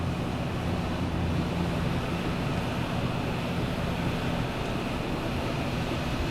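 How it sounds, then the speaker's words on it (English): Engine oil drains from a Honda Odyssey during an oil change, making a steady, continuous rushing pour that holds at an even level throughout, with no talking. "While that's draining out, we can go ahead and remove our oil filter."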